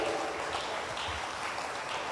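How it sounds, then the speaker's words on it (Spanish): A church congregation claps hands together during a Pentecostal service, a dense, continuous wash of applause heard from within the room, fairly soft and without speech. "Dele fuerte palmas al Señor en el nombre de Jesucristo."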